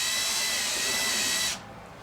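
A steady high-pitched whine of a drill bit chamfering a hole in metal on a 1985 Ford F150, loud and continuous, then stopping abruptly, leaving quiet room noise.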